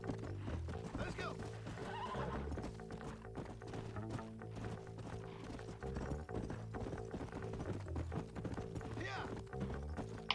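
A horse in Red Dead Redemption, played on Nintendo Switch, neighs and clops its hooves amid a dense game soundtrack, with someone talking over it.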